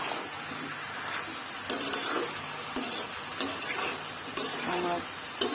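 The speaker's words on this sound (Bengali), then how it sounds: "তারপর ভেজে দিব" Ridge gourd curry cooks in a pan, a soft continuous sizzle and frying hiss with occasional scrapes and clinks of a spoon stirring against the pan.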